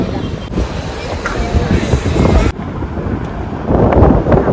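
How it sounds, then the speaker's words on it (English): Strong wind buffets the microphone with a loud, rough roar that surges and shifts throughout. "It's really windy."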